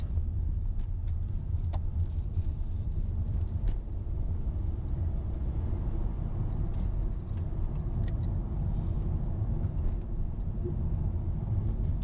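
Steady low road rumble heard inside a Honda BR-V driving over coarse asphalt, a continuous dense drone with faint ticks, no voices.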